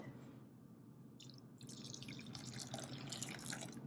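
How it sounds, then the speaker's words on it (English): Boiling water pours onto gelatin paste in a bowl, a faint quiet start building into a steady, close splashing trickle for the rest of the pour. "you're gonna put in about a cup or a cup and a half of boiling water"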